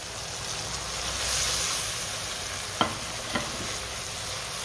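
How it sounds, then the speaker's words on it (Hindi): Spices being stirred into a hot pan, a steady soft sizzle with a few distinct scrapes and clicks of the spoon against the pan, no talk. "अच्छे तरीके से मिक्स कर लेंगे।"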